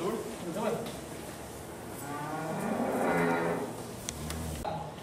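Cattle on a dairy farm moo in a long, deep, swelling call that builds to a loud peak midway, with other barnyard noise and a person talking around it.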